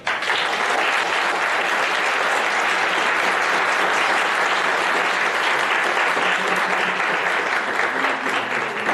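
Audience applause for a lecturer at the close of a criminology and criminal law conference, a dense, steady round of clapping from a full room that holds evenly for about nine seconds.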